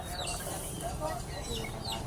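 Chickens clucking faintly at a distance in an outdoor setting, scattered calls over steady background noise with some talking nearby.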